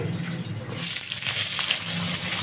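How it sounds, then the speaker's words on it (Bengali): Pointed gourd (potol) frying in hot oil, heard as a close, watery sizzle that swells after a quieter opening and then holds steady. "এবার এক এক করে সব সবজিগুলো ভেজে নেব যেমন পটলটা এবার ভেজে নিচ্ছি"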